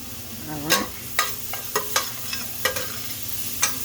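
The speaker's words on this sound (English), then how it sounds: "So we're going to stir this and kind of saute this and get these tender." A spoon scrapes and knocks against a pan in sharp, irregular strokes while vegetables for sloppy joes sauté with a faint steady sizzle underneath, close and without speech.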